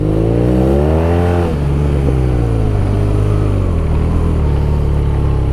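A loud BMW R nineT (2014) boxer motorcycle engine revs high and then drops off throttle, the pitch falling as it winds down, with a rough, popping exhaust burble underneath.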